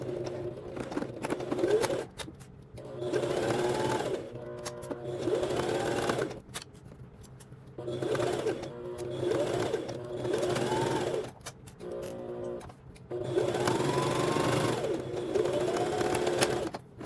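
A sewing machine stitching jumpsuit fabric runs in repeated bursts of fast, steady whirring and needle chatter, separated by short pauses, close and fairly loud.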